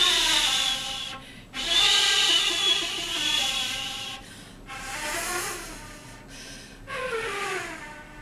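Breathy, airy notes blown on a wind instrument imitate wind whistling through trees, rising and falling in pitch across four long swells separated by short pauses, close and fairly loud with no talking.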